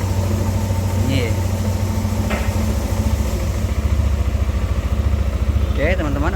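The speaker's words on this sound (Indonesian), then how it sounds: "kondisi sudah halus ya, suara mesin tidak kasar seperti tadi" The engine of a Yamaha NMAX scooter idles steadily and evenly up close, a continuous low running drone with faint clicks and brief tonal chirps over it.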